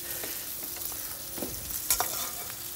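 Food cooking in a pan on a hot home stove, a steady broadband sizzle and bubbling with occasional sharper crackles and stirring clicks, fairly close and continuous, with no voices.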